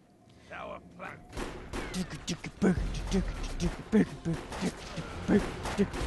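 Explosion in the video game Defiance, a sudden heavy low boom and rumble followed by scattered thuds and debris, with game effects continuing under it.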